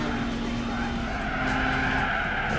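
A race car in Gran Turismo 4, during a one-make club race, skids with a continuous tire squeal over a steady engine roar, loud and close throughout.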